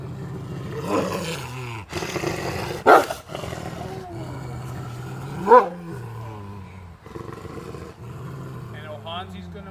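Captive wolves at Fort Rickey growl and snarl in a low, rough rumble, with two sharp louder yelps or snaps rising above it and someone talking over the noise.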